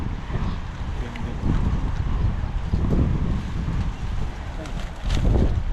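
Steady wind rushes and buffets the microphone in loud gusts, with a low rumble throughout.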